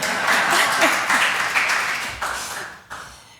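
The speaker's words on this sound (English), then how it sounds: "Somebody has to clap for the calendar view." Audience applause at a software user conference session during a project-management software demo, a steady wash of clapping lasting a few seconds before fading.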